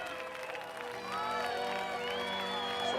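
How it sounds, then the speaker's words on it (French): An audience claps and cheers for Audrey, shouts and whoops rising over a thick wash of applause that swells louder midway and stays lively to the end. "On l'applaudit bien fort."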